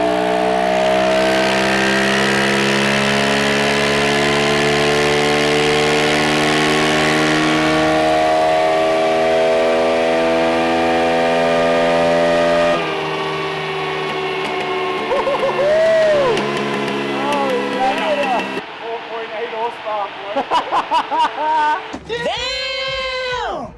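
A Kawasaki KLX 110 dirt bike engine runs on a dyno, rising in a long, loud, steady rev with a rich buzzing drone, then dropping into a lower, choppier burble as the throttle is eased and blipped.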